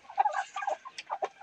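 Native chickens in a breeding pen cluck and murmur close by, a busy run of short, overlapping calls with no talk.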